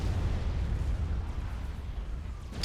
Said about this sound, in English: The artillery war now going on.